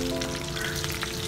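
Cumin, mustard seeds, split green chillies and curry leaves sizzle steadily in hot oil for a masala brinjal curry, a dense, even crackle close up with no pauses and no voices.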